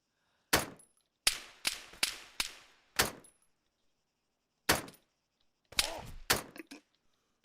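Gunfire in a video game shooter: about ten sharp, separate shots come at an irregular pace, some close together and some spaced seconds apart, with silence between them and no talking.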